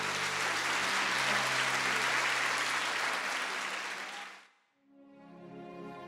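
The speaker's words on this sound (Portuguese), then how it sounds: "Quem pode aplaudir a Jesus, hein?" Loud, dense applause from a church congregation fills the opening seconds, then cuts off abruptly and gives way to a soft musical tone.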